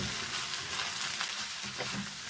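Black pepper and soy sauce stirred through a sizzling pan on high flame, a soft continuous hiss with faint scraping strokes, no voices.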